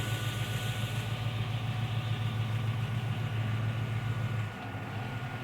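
A Buick Regal's engine idles with a steady low rumble close by, holding even for several seconds before dropping slightly quieter near the end.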